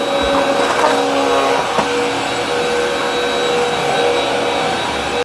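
A Hoover WindTunnel All-Terrain upright vacuum cleaner runs on its own with a steady, even motor whine and airflow hiss, held close and fairly loud, broken only by a brief clunk before it shuts off abruptly at the end.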